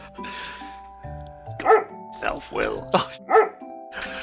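A dog barks and yips in short bursts, four or five sharp calls close by, mixed with people talking over and between them.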